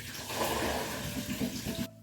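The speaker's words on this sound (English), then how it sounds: "I just tried to run it under cold water until no more dye came out" Cold water running into a bathtub while dyed scrubs are rinsed, a steady close rushing splash with some sloshing, ending abruptly.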